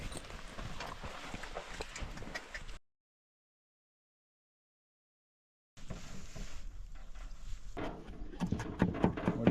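Hooves clip-clop steadily and close by, cut off by a few seconds of silence, then resume, growing a bit louder toward the end.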